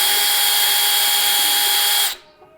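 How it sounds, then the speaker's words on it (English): A power drill bores a hole in wood for a squirrel picnic table, a steady high-pitched motor whine held for about two seconds at close range before cutting off abruptly into near silence. "And you place your hand on the top, gently push, and you can start drilling."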